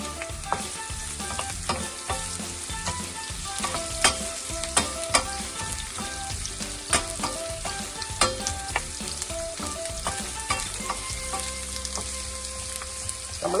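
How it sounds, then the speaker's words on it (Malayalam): Onion tossed into a hot pan with pork and carrot for sweet and sour Singapore pork, sizzling loudly and steadily while a spatula clacks and scrapes in repeated stirring strokes. "ഈ ഒനിയൻ ചേർത്ത് കൊടുക്കാം"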